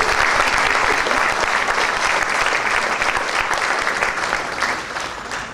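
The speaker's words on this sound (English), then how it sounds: "let's have a round of applause." A dinner-event audience breaks into full, dense applause, many hands clapping steadily and loudly throughout, tapering off slightly toward the end.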